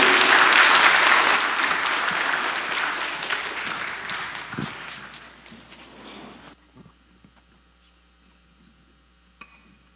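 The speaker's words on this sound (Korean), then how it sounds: "큰 박수로 격려해 주시면 좋겠습니다" A church congregation at a Sunday service claps loudly at first, then the applause thins and fades away over several seconds, leaving near silence with a few faint scattered sounds.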